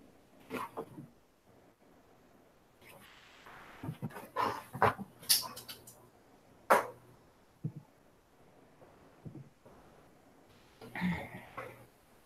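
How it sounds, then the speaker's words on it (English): A dog gives a series of short barks and whimpering vocal bursts, trained to speak on command, with irregular loud yaps and quieter pauses between them, recorded close indoors. "I sometimes regret having taught this dog how to speak."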